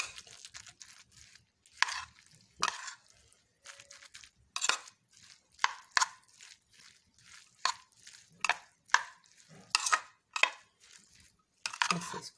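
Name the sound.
mashing cooked rice by hand for rice koftas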